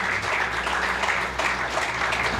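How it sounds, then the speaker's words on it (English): Audience applause at a community gathering in Caroni Central, Trinidad and Tobago: a dense, continuous roar of clapping that stays loud and even throughout the short stretch. "So give him a hearty round of applause again."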